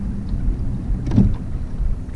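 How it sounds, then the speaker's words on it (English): An electric trolling motor drives a kayak across the water, giving a steady low hum and churning wash that stay close and even, with a slight swell near the middle. "Cutting off the motor."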